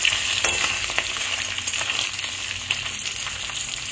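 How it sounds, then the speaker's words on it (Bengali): Tangra fish frying in hot oil in a kadai: a steady, close, dense sizzle with scattered crackles and pops throughout, and no voices. "বাকি মাছ কটাও এবার তেলে ভেজে নেব।"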